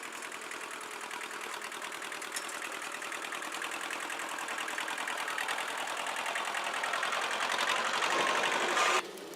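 A tractor engine runs at a steady mid-range idle during boxblade driveway work, a continuous rapid chugging rattle close by that grows slightly louder before cutting off abruptly near the end.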